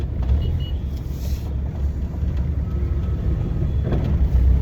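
Cars idling and creeping in a Noida traffic jam, a steady low engine rumble of dense road traffic that stays loud and continuous throughout, with no voices.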